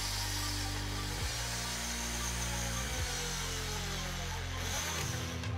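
A small drill boring a tiny hole through the lower part of a cut-down steel nail that is being made into a miniature pirate sword, giving a steady close high whine with a few shifts in motor pitch.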